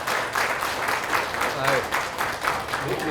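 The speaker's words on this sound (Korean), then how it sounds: "큰 박수로 환영해 주시면 감사하겠습니다." Crowd applause at a People Power Party members' meeting in Pohang, welcoming a lawmaker to speak; a sustained, fairly loud patter of many hands clapping in close, irregular bursts for the whole stretch.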